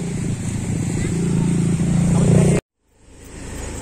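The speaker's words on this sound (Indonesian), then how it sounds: "kita naik motor di pinggir laut" A motorcycle engine drones steadily while riding along a seaside road on the coast, a loud, close, continuous hum with wind that cuts off abruptly and then fades back in.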